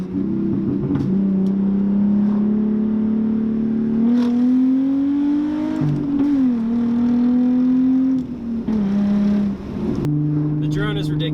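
Exhaust drone from a Hyundai Genesis Coupe 3.8 on a track drive, a loud, steady low hum that rises and falls slightly with throttle, with someone talking over it.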